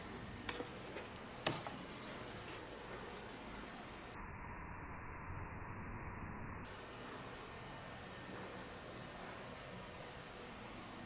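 Oil-based black spray paint sprayed onto a vacuum cleaner, a steady soft hiss that runs throughout, with a few sharp clicks near the start.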